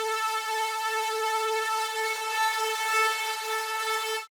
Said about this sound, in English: I think it's pretty much just a classic saw lead.